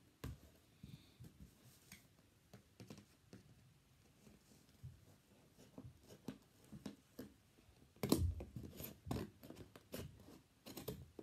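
Scissors cut a square from material for a leprechaun trap, giving irregular close snips and rustles that are quiet at first and then louder toward the end.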